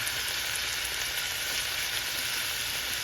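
Minced beef fries with carrots in a pan, a dense, loud, continuous sizzle with a bright hiss, close and steady throughout, with no speech.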